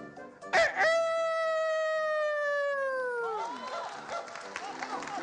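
A man imitates a rooster's crow with his voice on a stage variety show, one long, loud, drawn-out cock-a-doodle-doo that falls at the end, followed by crowd noise and applause.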